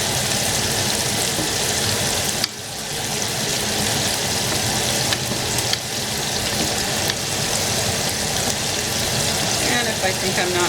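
Meatballs sizzle and spit steadily in a hot pan, a dense crackling hiss that stays loud and even throughout.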